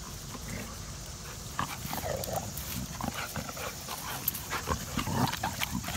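Bully-breed dogs during an early morning workout, with scattered scuffling, panting and paw movement over a steady background, irregular and moderately close, no voices.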